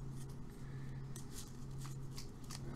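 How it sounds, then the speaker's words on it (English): Trading cards for the Transformers TCG being shuffled during a tabletop match, a soft papery riffle and flutter in short bursts over a steady low hum. "Might as well start shuffling my deck."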